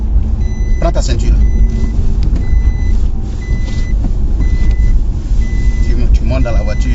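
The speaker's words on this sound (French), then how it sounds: "La ceinture, ça sonne." A car's seatbelt warning chime repeats in a steady series of short tones inside a moving vehicle, heard over engine and road rumble while people talk.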